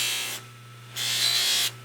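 A 3600 RPM bench grinding wheel spins with a steady low hum, broken by two loud, hissing bursts of grinding contact separated by a quieter pause.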